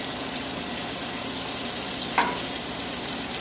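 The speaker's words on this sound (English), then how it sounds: "I'm going to put some sage in, and this will kind of fry up." Sage leaves and hazelnuts frying in hot oil in a pan give a steady, loud, close sizzle with a brief stirring scrape partway through and no talking.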